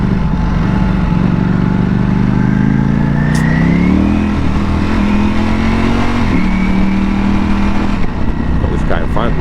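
A Ducati Panigale V4S drones steadily under a ridden motorcycle at a constant loud level, its pitch climbing briefly midway. Someone talks over the engine throughout.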